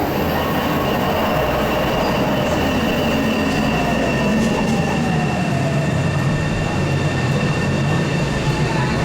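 A train near Boston rumbles steadily along the rails, loud and continuous, with a faint metallic squeal of wheels drifting in and out.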